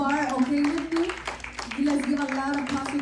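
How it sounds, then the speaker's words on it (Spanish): Church congregation clapping for the Lord during an evening worship service, a mix of uneven handclaps under loud sung or shouted voices, close and lively throughout. "denle un aplauso al Señor"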